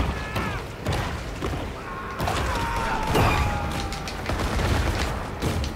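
Dense, continuous gunfire rattles at the shark in the video game Maneater, loud and busy throughout with clattering bursts and underwater-muffled thuds, no clear pauses.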